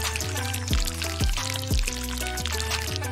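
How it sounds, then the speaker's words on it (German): Sugar icing is piped onto a cake in a rich-versus-poor cake-decorating contest, with a few squelching, squirting pushes from the bag, close and fairly loud. "Ich spritze Zuckerguss drauf."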